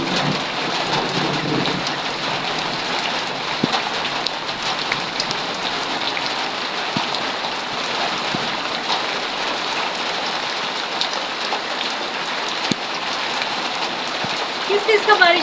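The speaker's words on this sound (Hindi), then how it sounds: "ज़बरदस्त किस्म की बारिश हो रही है।" Heavy monsoon downpour with thunder, a dense steady hiss of rain hammering surfaces throughout, with occasional low rumbles and soft distant voices underneath.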